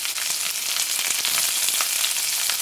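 Ginger, garlic, green chili and curry leaves sautéing in oil for a cabbage pickle, a dense, loud, continuous sizzle with faint stirring clicks throughout, no speech.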